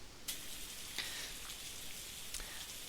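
Rain falling in a fantasy setting, a soft, steady wash of hiss with a few brief louder drop spatters, faint and distant, no voices.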